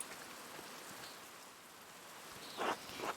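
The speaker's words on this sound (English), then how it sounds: "Look at this rain." Rain falls in the medieval adventure game Pentiment, a faint, even hiss of drops with a couple of slightly louder rustling bursts near the end and no voices.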